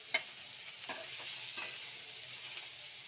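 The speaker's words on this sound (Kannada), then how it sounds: "ಇದೆಲ್ಲ ಒಂದ್ಸಲ ಮಿಕ್ಸ್ ಮಾಡಿ ಈ ರೀತಿ" Mushroom chilli ingredients stir-fried in a pan with curd just added, giving a steady close sizzle with a few sharp scraping stirs of the spoon spread across the clip, no voices.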